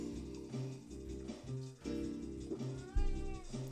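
A house cat meows several times up close, drawn-out tonal calls in a loose series, loud and clear with no talk over them.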